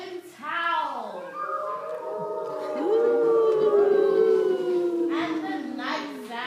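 A voice imitates a cold wind howling, drawing out long, wavering, rising and falling howls like a storm outside a bear's cave in a children's story.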